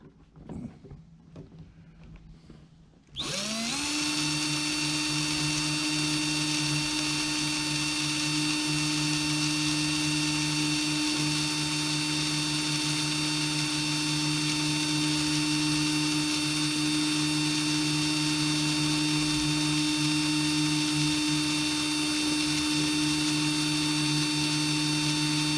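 A drill spins up after a few quiet seconds and runs steadily as it bores into the wooden hull of a model ship, a loud, constant whine that holds for over twenty seconds without pause.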